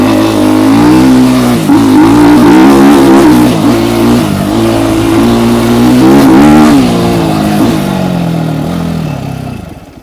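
A Trailmaster TM 38E bike engine, warmed up, revs loudly and closely for about ten seconds, its pitch rising and falling through several throttle blips before settling toward idle.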